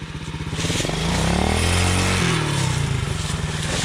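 A Kawasaki enduro pit bike engine revs hard and close, a loud, buzzing drone that rises in pitch, holds, then dips slightly and climbs again, with no talk over it.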